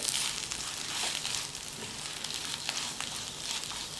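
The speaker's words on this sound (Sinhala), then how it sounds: "දැන් වම්බුඩු ටික තෙලෙන් බැදිලා තියෙන්නේ." Eggplant frying in oil in a pan, a continuous dense crackling sizzle at moderate loudness with faint pops throughout.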